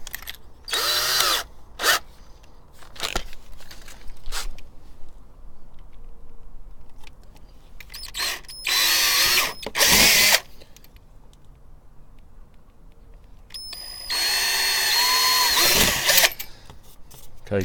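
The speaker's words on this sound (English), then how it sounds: "Then we'll have the 5mm drill bit." Power drill with a 5mm bit drilling into a motorcycle part in short separate bursts of loud whirring, with quieter handling noises between them.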